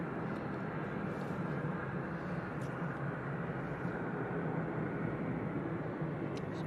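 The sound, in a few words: Boeing 737 Max airliner at Manchester Airport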